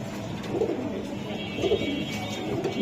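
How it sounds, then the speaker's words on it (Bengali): Pigeons coo softly in low repeated calls over a murmuring background. "একটা জোড়া কবুতর সেটা আমি দেখাই দিলাম এই যে দেখেন"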